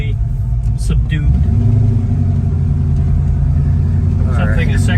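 A 1967 Ford Mustang hardtop with a 302 V8 and five-speed rumbles steadily at low revs, a deep, subdued idle-like drone throughout with faint voices in the cabin.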